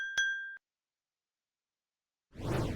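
A short bright ding of a subscribe notification bell rings out alone at the start, followed by silence and then a brief burst of soft noise at the end.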